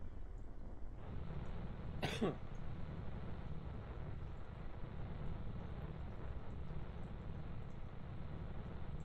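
One sharp, short cough follows a dab, rising briefly over a steady low background hiss, close to the microphone.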